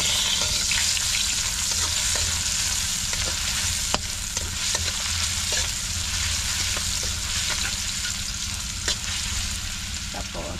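Ginger sizzling and crackling steadily in a hot pan, with occasional louder pops and clicks of stirring over a constant frying hiss.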